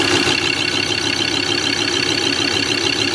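A Ford Ranger 3.2 diesel engine with a newly replaced injector runs at a steady, loud idle, giving a continuous rough rumble that holds without a break through the whole stretch.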